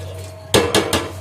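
Three sharp metallic clanks of a utensil striking a cooking pot ring out close and loud while spices and water are mixed for Pakistani chana pulao.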